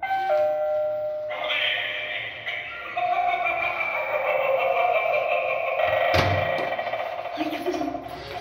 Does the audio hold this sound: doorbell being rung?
yes